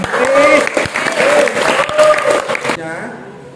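Group clapping in a teacher-training classroom session, loud and close at first and then thinning toward the end, with voices ringing over the claps.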